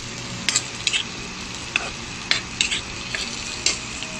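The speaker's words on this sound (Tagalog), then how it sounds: "sinunod ko na po yung sibuyas. Haluin po natin para maluto siya." Onion and golden-browned garlic frying in a pan for butter garlic shrimp, a constant sizzle broken by several sharp, close clinks and scrapes of a utensil as it is stirred.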